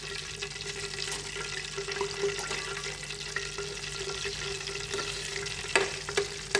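Steady frying sizzle of raw banana chips in hot oil runs throughout, with occasional clinks and stirring sounds near the end.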